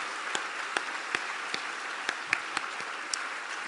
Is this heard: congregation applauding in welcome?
yes